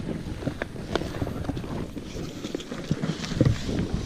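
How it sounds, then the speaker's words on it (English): Wind gusting across a campsite by the water, loud buffeting rush on the microphone throughout with uneven surges and faint scattered knocks. "Rather windy, so I think we're gonna stash the gear here and go from there."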